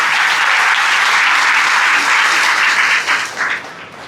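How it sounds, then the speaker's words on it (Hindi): Loud, sustained audience applause fills a hall at an annual religious festival at Baba Dayaram Dham in Karnal, a dense, steady wash of clapping that fades slightly near the end. "जिनके लिए भी हम जोरदार तालियां बजाएं की गई है।"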